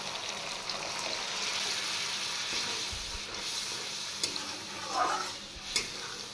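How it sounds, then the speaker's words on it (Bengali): Water goes into spice paste frying in oil for a white catla fish curry, setting off a steady hissing sizzle with a few brief stirring knocks, near and moderately loud, no talk. "এবার আমি একটু জল দিয়ে দিচ্ছি।"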